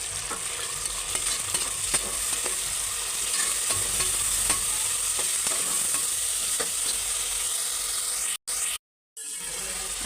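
Three tomatoes and two green chilies frying in a pan while making paya sherwa, with a continuous sizzle and repeated scraping stirs, then a brief cut to silence near the end.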